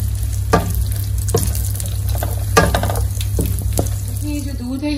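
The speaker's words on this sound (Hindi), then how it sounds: "और इसके अंदर हम अपने ये तमाम ड्राई फ्रूट डाल देंगे। इसमें और इसको हल्की आग पे फ्राई कर लेंगे" Dry fruits fry on a low flame for Eid sheer khurma, a soft steady sizzle with a few light stirring scrapes and taps, close and fairly quiet, with a steady low hum underneath.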